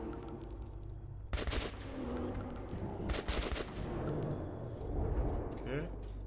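Bursts of gunfire in Metro 2033 Redux crackle in quick rapid volleys over a steady background drone, with a few sharp metallic clinks between them.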